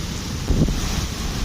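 Strong wind gusts buffet the microphone during a heavy rainstorm in Dubai, a steady roaring rush with a brief louder thump midway.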